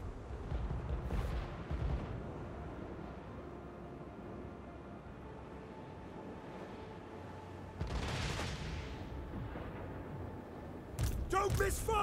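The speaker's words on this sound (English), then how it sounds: "That's a lot of shooting." Empire soldiers fire volley after volley in a Total War: Warhammer 3 battle, a dense, continuous rumble of distant massed gunfire and booms under occasional talk.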